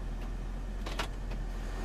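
A door lock switch beside the hazard button in a 2007 BMW Z4 M Roadster is pressed, and the locks actuate with a quick mechanical clunk and whir in the middle, set over a steady low cabin hum.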